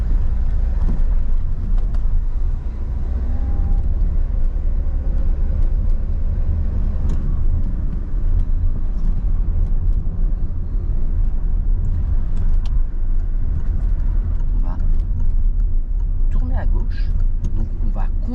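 A car drives through a roundabout during a learner's driving lesson, a steady low engine and road rumble running throughout with an instructor talking over it.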